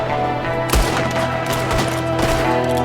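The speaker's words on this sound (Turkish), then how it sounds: "Şöyle çatışmaya başladı." Gunfire crackles through an ambush shootout in the Wild West game Red Dead Redemption 2, with a few sharp shots standing out over a steady backdrop of game sound.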